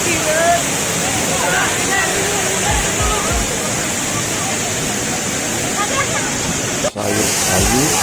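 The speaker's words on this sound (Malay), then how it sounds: "tengok atas tu air terjun" Constant heavy roar of the waterfall at Sungai Pisang, loud and close, with water rushing and splashing throughout and voices talking beneath it.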